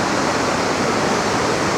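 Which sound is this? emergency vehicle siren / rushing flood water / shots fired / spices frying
rushing flood water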